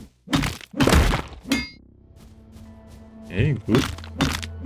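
Trees being smashed apart in the video game Dysplaced give sharp cracking, crunching hits in quick bursts, close and loud, with a short spoken remark between them.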